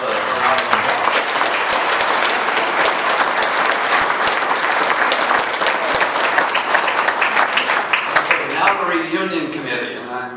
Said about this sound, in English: please give Elda a round of applause